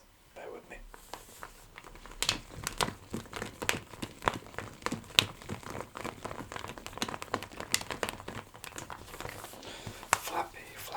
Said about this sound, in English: I purchased 2 new resistance bands, and I'm just going to grab them for you now